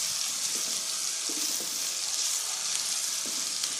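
Ginger garlic paste fries in oil for a potato and pea curry, giving a steady, close sizzle with light stirring scrapes throughout and no voices.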